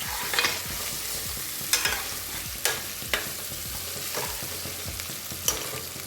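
Goat lungs frying in a pan and being stirred: steady sizzling under sharp, irregular scraping strokes of a spoon against the pan, fairly close, with no voices.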